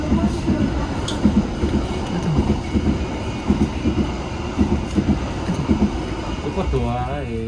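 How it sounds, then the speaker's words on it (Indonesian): Perbuwangi passenger train pulling away from Grati station, its steady rumble and rhythmic wheel clatter heard from on board, with rising squeals near the end and voices in the background. "kereta api Perbuwangi diberangkatkan kembali dari stasiun Grati dan kali ini lebih cepat"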